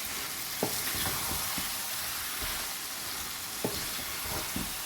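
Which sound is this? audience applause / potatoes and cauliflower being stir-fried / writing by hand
potatoes and cauliflower being stir-fried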